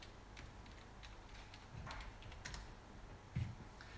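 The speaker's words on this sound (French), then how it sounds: "je vais taper mon mot de passe" A password being typed on a keyboard, with scattered, soft key clicks at an uneven pace and one louder tap near the end, close and quiet, with no voices.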